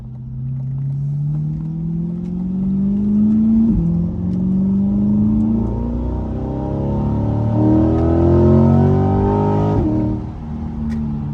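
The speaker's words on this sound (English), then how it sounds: "That mid-engine sound good in the back too" A mid-engine 2021 Chevrolet Corvette C8 revs up loudly through the gears, rising pitch climbing, dropping at each shift, then climbing again, heard from close by.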